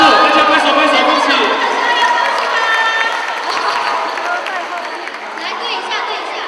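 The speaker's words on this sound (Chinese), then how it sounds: "他在跑步，大家拍手，恭喜。" A church Christmas gathering's audience claps and cheers for a runner in a 100-metre dash, a loud, lively crowd with voices calling out over continuous applause.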